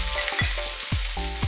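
Onion and garlic sizzle steadily in hot oil in a wok, a dense continuous frying hiss with a few soft clinks from stirring.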